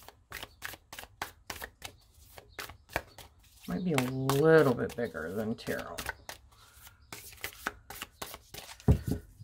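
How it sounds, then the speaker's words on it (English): Tarot cards riffle and snap together in a short shuffle, with a person talking quietly before and after. "So let's see how well I can shuffle this."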